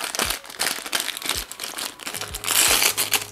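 Crinkling plastic of a small packet being unwrapped by hand, close and loud, with repeated rustling bursts and crackles and a few soft thumps.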